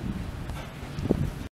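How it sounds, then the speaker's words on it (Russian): Gusty wind buffets the microphone in a rough, continuous rumble for a moment before cutting off abruptly. "Ветер."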